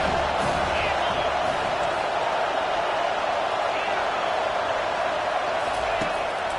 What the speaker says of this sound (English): This crowd rising up